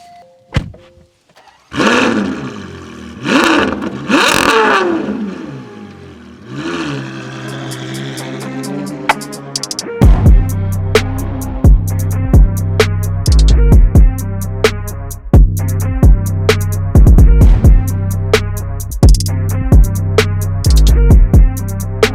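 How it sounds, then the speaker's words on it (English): A Novitec-tuned Ferrari Purosangue V12 engine starts, idles with a deep burble, then revs hard in repeated loud bursts, close and dominant throughout. "we go for a drive and enjoy that beautiful V12 Symphony"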